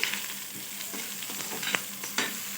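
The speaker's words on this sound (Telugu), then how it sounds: "ఆయిల్ అనేది వేడైపోయిందండి ఇప్పుడు వచ్చేసి ఉల్లిపాయలు అండి ఇలా సన్నగా కట్ చేసుకొని ఉల్లిపాయలు వేసుకోవాలి పచ్చిమిర్చి కరివేపాకు వేసుకొని ఒకసారి ఇలా కలిపేసుకుందాము" Sliced onions, green chilies and curry leaves sizzle in hot oil, a continuous close frying hiss with a few sharp pops and light stirring scrapes, no voices over it.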